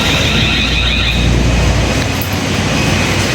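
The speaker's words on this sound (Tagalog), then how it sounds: "Hindi tayo makakatulog sa sobrang ingay ng alarm." A loud, continuous blaring alarm tone holds steady without a break, harsh and piercing, with a rumbling, mechanical noise beneath it during heavy rain.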